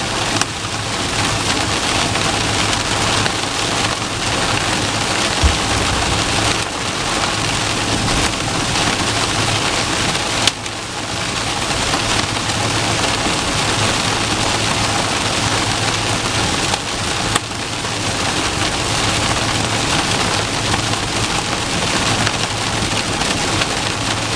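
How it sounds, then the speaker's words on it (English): Hail or very hard raindrops pelting the windshield of a Coachmen Beyond camper van, a steady dense drumming on the glass with occasional louder cracks, loud and continuous throughout. "those loud cracks that sound like rocks hitting the windshield, I have a feeling that's actually hail"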